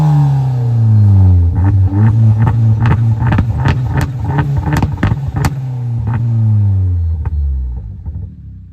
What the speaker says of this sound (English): you may have heard the fourth thing that I love, which is that glorious induction noise